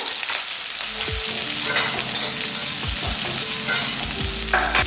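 About 200 grams of small onions fry loudly in a pan with ginger for a mutton curry. A constant crackling sizzle runs throughout, broken by several sharp scraping and clanking stirs of a utensil against the pan.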